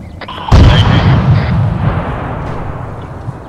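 A single loud, close gunshot blast in the military shooter game Arma 3, followed by a rumbling echo that slowly fades.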